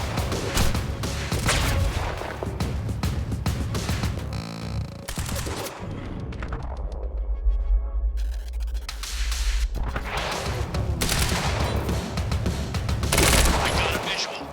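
Heavy gunfire in the Quantum Break shooter game, dense loud automatic bursts and booming blasts packed together, dropping away briefly midway before resuming with rattling volleys and impacts.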